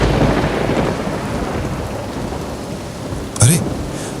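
A thunderstorm on a stormy night pours heavy, steady rain throughout, then a sharp, loud thunderclap breaks through near the end and rumbles off.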